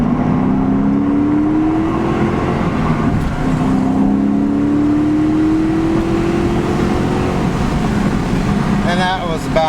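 Porsche 928 GTS engine pulling hard at three-quarter throttle, a steady rising drone climbing in pitch through two gear pulls, loud and close from inside the car, with someone talking briefly near the end.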